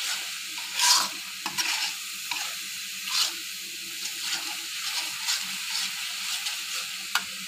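Spices frying in hot oil in a pan for a Bengali meat dish, a steady close sizzle broken by repeated stirring scrapes and brief splutters, with no talk.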